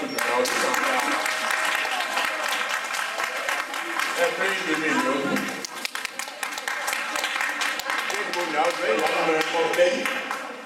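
Audience applause at a presidential investiture ceremony in London, steady dense clapping filling the room for about ten seconds with music and voices mixed in underneath.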